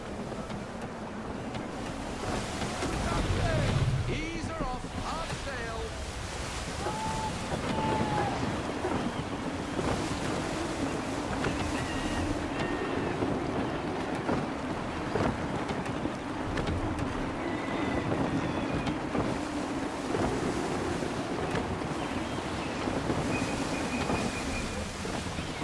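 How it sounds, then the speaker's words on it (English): A sailing ship moves through gusty wind and open water in Assassin's Creed III, with steady roaring wind and surging waves that rise and fall throughout. "We need sail. Full sail. Wind looks to be shifting."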